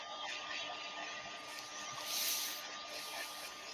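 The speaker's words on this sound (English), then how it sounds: "Just speeding up the drying with the hair dryer" A hair dryer blowing on a freshly turned wooden candy bowl produces a steady, airy whirring roar at close range, rising slightly midway.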